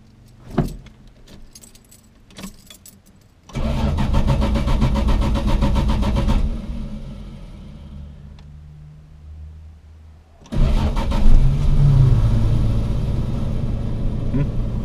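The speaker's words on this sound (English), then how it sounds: "One round of crank and then up she goes." A car engine cranks over briefly and fires up after keys jingle, then settles into a steady idle, cuts out, and restarts with a louder, sustained run.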